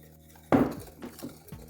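Custard mixture with milk being stirred in a pot with a utensil: a sudden clanking scrape against the pot, followed by a few lighter clinks and swishes, close and fairly quiet.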